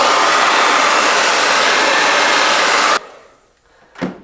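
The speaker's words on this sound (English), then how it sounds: "I'm going to just go ahead and repeat the hair dryer step for another 15 or so seconds" A hair dryer heating the adhesive of a helmet mount blows with a loud, steady roar, then cuts off abruptly, leaving a quiet tail and a short faint whoosh.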